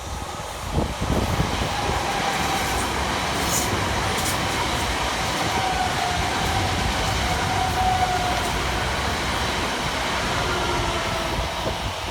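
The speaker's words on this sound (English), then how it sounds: "Next flying through the station for Southern is 377619 and 377602" Southern Class 377 electric trains passing through Anerley station during a storm, a loud continuous rumble and rush of wheels on rails with faint clatter, steady from start to finish.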